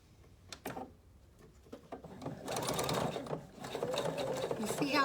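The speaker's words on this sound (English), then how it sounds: "this time I'm gonna use what's called a triple stitch. And if you kind of watch the way this feeds in the machine here," A sewing machine stitching a triple stitch through cork, the fabric feeding forward and backward: faint ticks first, then a steady, fairly quiet mechanical whir in two runs.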